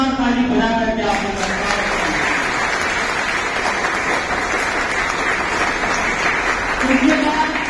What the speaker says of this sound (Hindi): डॉक्टर अयूब अंसारी साहब यहाँ आए हैं, जोरदार ताली बजा करके आपको